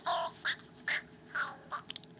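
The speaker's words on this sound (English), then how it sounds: "Then you can make your recording sound like a parakeet." A short burst of chirpy, high-pitched warbling bursts, a voice pitched up into squeaky birdlike calls by the Nintendo DSi parakeet effect, several quick syllables close to the mic.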